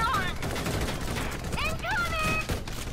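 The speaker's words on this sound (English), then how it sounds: "They're firing on us." Rapid bursts of gunfire in the tactical war video game Valkyria Chronicles 4 during an Imperial attack, crackling steadily throughout under game sound effects, with voices talking over it.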